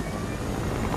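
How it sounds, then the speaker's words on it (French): Helicopter in the video game Fortnite, a steady loud rotor and engine drone filling the short moment alone, with no voices over it. "Pourquoi je suis dans un hélico?"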